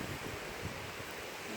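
Breezy wind rushes steadily outdoors in an early-spring garden among shrubs and trees, a broad continuous roar with slight gusting and no speech.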